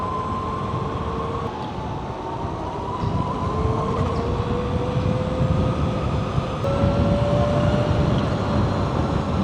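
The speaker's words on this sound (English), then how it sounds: "the sound, the electric sound, it's not too loud, but it's there enough to keep you engaged" Steady high-pitched whine of a Flying Flea C6 electric motorcycle motor under throttle, gliding up in pitch over a continuous rush of road and wind noise, moderately loud and close throughout.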